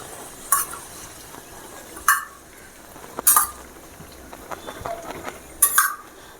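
A spoon stirring rava kesari cooking in ghee in a pan, with scraping strokes against the metal at irregular intervals over a soft, steady sizzle, close and without talking.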